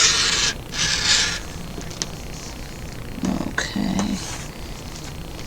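Scissors cutting through fabric while trimming a handkerchief or pocket square to size: a few brief crisp snips and slicing swishes, close and fairly quiet, with faint low sounds between cuts.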